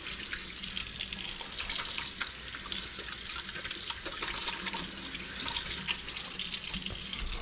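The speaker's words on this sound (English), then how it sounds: "Let me wash my hands because it's spicy." A kitchen tap runs steadily while hands are washed beneath it, giving a soft, even splashing with small irregular spatters, fairly quiet and without speech.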